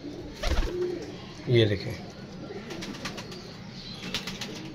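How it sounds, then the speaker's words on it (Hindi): A pigeon coos softly on a rooftop loft during a pigeon-flying tournament, while someone speaks over it. "तो ये कबूतर है।"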